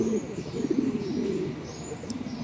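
Soft, low pigeon coos repeat in a steady rolling rhythm close by, with faint chirps and outdoor hiss behind them.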